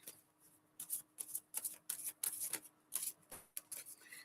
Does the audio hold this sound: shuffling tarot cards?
yes